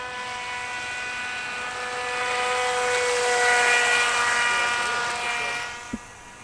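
A 1990s RC boat refitted with a brushless motor runs on water with a steady high-pitched electric whine that swells as it nears and fades as it pulls away, ending with a brief knock.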